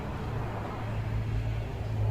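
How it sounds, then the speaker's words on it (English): A loud car drives past outdoors, a steady low engine rumble and road roar that builds toward the end, moderately close, with no talking over it. "A loud car."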